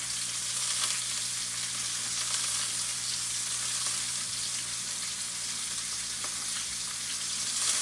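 Steak for Valentine's Day sizzles steadily in a hot pan, with a constant, fairly quiet frying hiss and a low hum beneath it that barely changes throughout and has no talking.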